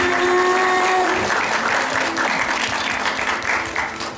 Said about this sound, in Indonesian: Tepuk tangan dulu buat Kak Dong Arisan.